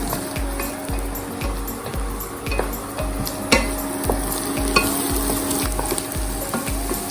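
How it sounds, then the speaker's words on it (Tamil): Grated coconut frying in a pan until brown, a loud continuous sizzle with rhythmic spatula strokes scraping the pan about twice a second, close and alone. "தேங்காய் நல்லா ப்ரௌன் ஆகிற வரைக்கும் நல்லா வதக்கிக்கோங்க"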